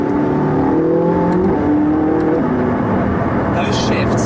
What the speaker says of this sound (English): there's a nice little pop on the upshift, even though that's nowhere near the red line